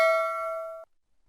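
A single bright notification-bell ding rings out clearly, its clean tone holding steady for under a second before cutting off into near silence.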